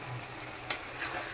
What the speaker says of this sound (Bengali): পাতাকপিটা একদম ভাজা ভাজা হবে।